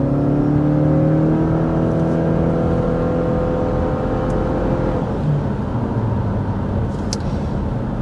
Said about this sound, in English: this Boxer engine, I think, is also quite a bit quieter than what you get on the gas model